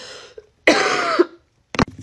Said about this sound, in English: my cough is gonna go away because it sounds like it's like kind of breaking up